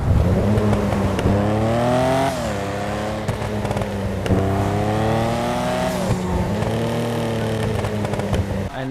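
Car exhaust in GTA Online revs hard through repeated climbing and dropping engine pulls, with sharp crackles and pops between the rises, loud and close throughout.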